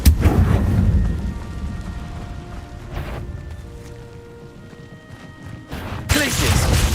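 Confringo blasting-spell explosions in Hogwarts Legacy, with a booming crash at the start and another loud blast near the end over continuous game sound and music tones.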